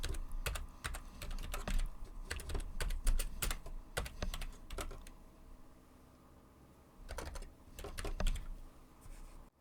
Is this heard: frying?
no